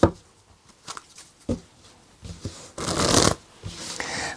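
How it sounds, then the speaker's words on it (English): Tarot cards are shuffled by hand at close range in bursts of crisp riffling and soft slaps, separated by brief pauses, with the longest and loudest riffle near the end; nobody speaks. "let's pull some cards and see what we get"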